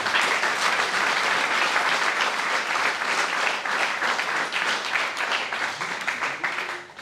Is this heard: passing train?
no